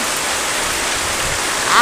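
Heavy rain pours down in a dense, loud, continuous hiss close by, steady throughout with a slight swell at the very end.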